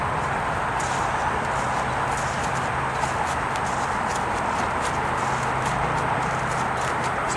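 A three-year-old mustang gelding walks behind its trainer, hooves falling in soft irregular steps on the ground beneath a constant wash of outdoor noise, with no talking.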